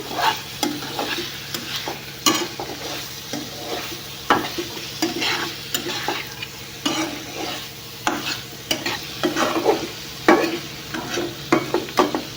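Paneer curry sizzles in a pan on a gas stove after coriander leaves go in. A utensil stirs it with steady scraping and clinking over constant frying hiss, close and fairly loud.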